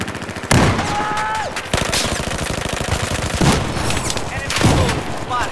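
A Type 88 light machine gun fires long, rapid automatic bursts in the video game Battlefield 4. The loud, close gunfire comes with other distant shots and explosions, and voices speak now and then underneath.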